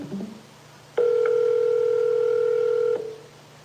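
A steady telephone call tone sounds while dialing, one loud unbroken tone lasting about two seconds after a faint click, with no ringing and no voices.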